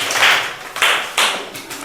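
Students in a Hindi dictation class clap loudly in three or four short bursts, close and sharp, with no talk over them.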